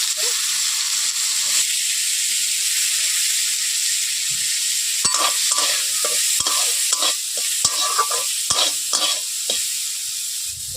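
Hot oil sizzling and hissing in a wok, steady at first, then broken by a series of sharp scraping stirs in quick succession.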